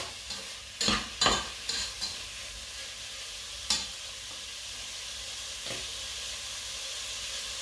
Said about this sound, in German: Deswegen bratet er jetzt schon so langsam in seinem eigenen Fett.